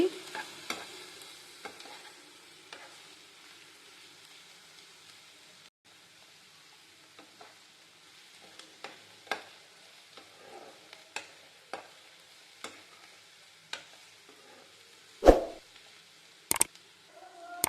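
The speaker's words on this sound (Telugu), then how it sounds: "మధ్య మధ్యలో ఆనియన్స్ని ఇలా కలబెట్టుకుంటూ ఉండాలండి లేకపోతే మాడిపోతాయి" Onions fry in a pan as a faint, soft sizzle runs under repeated sharp scrapes and clacks of a spoon stirring them, the strokes growing more frequent and louder toward the end, with no talk.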